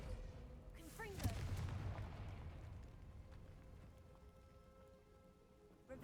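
A Confringo blast spell cast in Hogwarts Legacy, one sudden explosive burst that trails off into a long rumbling, crackling decay.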